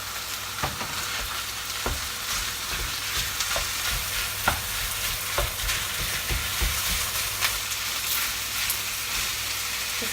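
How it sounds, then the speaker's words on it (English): Beef mince frying in a hot pan gives a continuous, close sizzle, broken by regular scrapes and taps as it is stirred and broken up, and no one speaks over it. "In goes the mince."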